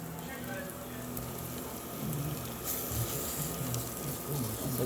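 Steak, onions and bell peppers sizzling on a smokeless indoor grill at home, a steady crackling hiss that swells slightly midway, with a low hum underneath.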